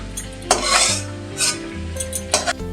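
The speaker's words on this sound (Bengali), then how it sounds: "চিংড়ি মাছটা আমার ভাজা হয়ে গেছে। এবার আমি চিংড়ি মাছগুলো তুলে রাখছি।" Fried shrimp being lifted out of a pan with a metal utensil while cooking a shrimp and taro dish: several sharp scraping clinks against the pan over a steady low sizzle of hot oil, close up with no talking.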